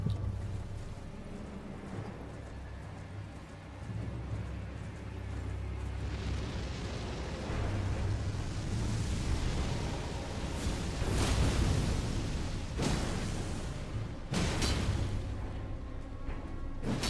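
A dragon's fire attack in the video game Elden Ring, heard as a sustained roaring rush of flame with heavy booming bursts and sharp crackling impacts that swell and peak several times.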